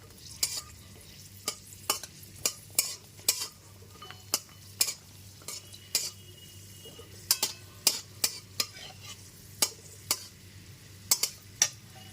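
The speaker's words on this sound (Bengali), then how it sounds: "গ্যাসের ফ্লেমটা লো টু মিডিয়ামে রেখে খুব ভালো মতো হালকা করে ভেজে নিচ্ছি" Cashews and almonds fry in a pan over a low-to-medium gas flame, with a steady quiet sizzle under frequent sharp scrapes and clinks of a spatula against the pan, close by and without talk.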